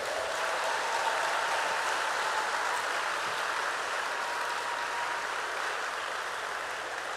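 Dense, sustained applause from a large audience at a university graduation ceremony, an even roar of many hands clapping that holds steady throughout without pauses.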